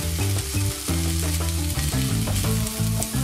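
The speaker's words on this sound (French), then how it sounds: "j'ajoute la pulpe de gingembre que j'ai donc préalablement râpée et qui va venir donc parfumer l'ensemble de la préparation" Grated ginger pulp sizzles in a frying pan as part of an Ayurvedic saag aloo. A steady, close frying hiss runs the whole time under loud melodic background music.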